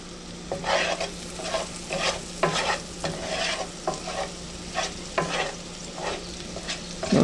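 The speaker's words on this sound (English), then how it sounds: "those radishes and onions are just starting to sizzle" Radishes and onions sizzle steadily in a hot pan, with a stirring scrape or clatter every second or so over the crackling frying noise.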